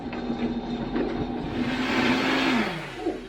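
A blender motor whirs up close, a steady low hum that swells into a louder, rougher grinding roar as it spins up.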